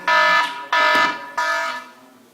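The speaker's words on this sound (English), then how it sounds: "that's my alarm clock saying our time's up." An alarm clock rings in three loud, sustained electronic beeps of about half a second each, separated by short gaps and fading slightly toward the end, with no talking over it.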